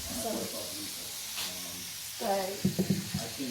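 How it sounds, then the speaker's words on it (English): Soft sizzling and hissing from steak frying in a pan, fairly quiet, with a voice talking over it and a few clinks toward the end. "I was just frying some steak"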